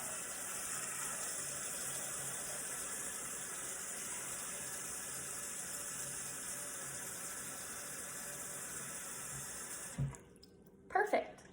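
Tap water runs steadily into a pot holding eggs, a continuous hissing gush for about ten seconds before the flow stops, followed by a few brief clinks and handling noises close by.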